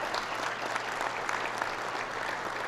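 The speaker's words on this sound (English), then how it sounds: "If I could pause just for a moment and ask you to give some applause to Jesse Dean" Audience applause at a downtown press conference, a dense, steady roar of many hands clapping at once, fairly loud and even from start to finish, without speech.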